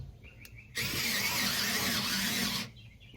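A Ryobi 4V cordless screwdriver drives a screw into an existing hole, its motor giving one steady whirring burst of about two seconds that starts and stops abruptly, close and fairly loud.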